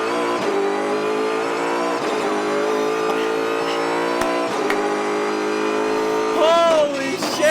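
Race car with strong harmonic engine roar pulling onto the track for a hot lap, accelerating hard throughout with rising pitch near the end; loud and close, heard from inside the car.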